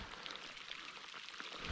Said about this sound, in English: I was gonna say it wasn't raining that bad, and then it started coming down right now.